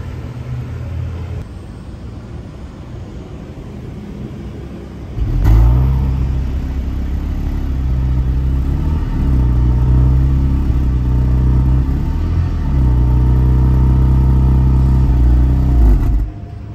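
A Toyota Crown Hybrid RS Advance idles with a deep rumble through a Ganador inspection-compliant aftermarket muffler, then revs up loudly and holds a throaty, booming exhaust note, close by and sustained.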